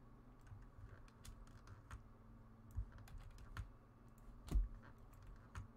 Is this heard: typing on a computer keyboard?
yes